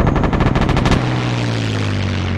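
Tank cannon fire in a crewed tank video game: a rapid burst of loud, close blasts in the first second, then a steady low engine rumble with no further shots.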